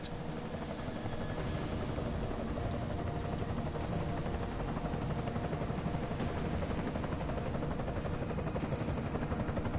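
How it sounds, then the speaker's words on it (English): An enemy helicopter in Deus Ex: Mankind Divided hovers with a steady, dense rotor drone that holds at an even, moderate level with no pauses for the whole stretch. "Enemy helo sighted."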